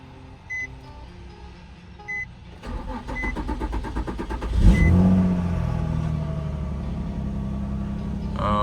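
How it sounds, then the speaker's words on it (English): A car engine cranks with rapid starter chatter for a couple of seconds, then catches with a loud rev and settles into a steady idle, preceded by a few electronic chimes. "So let's start it up."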